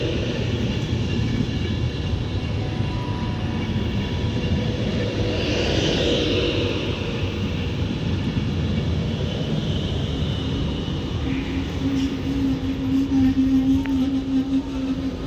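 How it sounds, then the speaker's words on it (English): A Class 390 Pendolino electric train on an Avanti West Coast service to Manchester Piccadilly passes through Stafford station on the West Coast Main Line, a loud sustained rushing roar with rising wheel and motor tones, no talking. "This 390 Pendolino is off to Manchester Piccadilly with 390138 on this"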